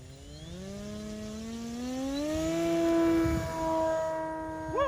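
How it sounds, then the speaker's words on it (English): An E-Flite Super Cub 25e electric RC plane takes off with its flaps down. The motor whine climbs steadily in pitch and loudness, then peaks and eases slightly as the plane pulls away close by. "So now we're gonna test this excellent STOL plane out today with flaps takeoff"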